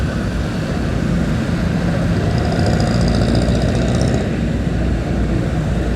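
A motorcycle engine runs continuously while riding, a steady loud drone mixed with rushing wind noise that holds at the same level throughout.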